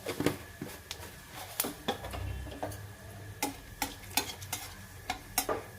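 Fenugreek, fennel, nigella seeds and a dried red chili sizzle in hot oil for a Bengali pumpkin-leaf posto, with a soft steady fry broken by sharp popping ticks and spoon stirring clicks, no talk.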